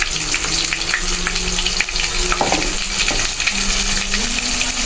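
Spice paste of ginger, turmeric and chilli sautéing in a pan, a loud, steady close-up sizzle with occasional stirring scrapes and clinks.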